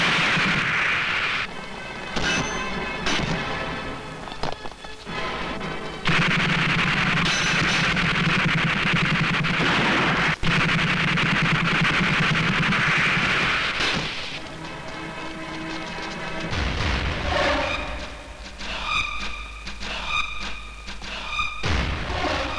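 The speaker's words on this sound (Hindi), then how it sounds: "ये क्या हो रहा है? कौन गोलियां चला रही है?" Rapid bursts of gunfire and heavy booming shots fill a dramatized shootout, loud and continuous, with dense cracks and thuds layered over a noisy action soundtrack.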